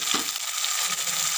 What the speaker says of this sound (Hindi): अब इसमें डाल देंगे टमाटर।